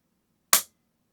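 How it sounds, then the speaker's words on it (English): A single crisp, sharp click from the trigger of a CZ 600 Alpha bolt-action rifle being pressed, close and isolated in an otherwise silent moment. "Now for something I think is really incredible in this rifle is the trigger press on it"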